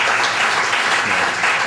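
An audience at a library poetry reading claps in a steady, close, fairly loud round of applause that continues without a break through the short excerpt.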